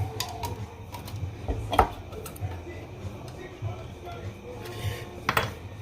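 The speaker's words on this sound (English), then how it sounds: "I like to use a small spoon just to get the top out" A small spoon scrapes and clinks inside the top of a can of goulash sauce in short metallic ticks and scratches, with one louder knock midway.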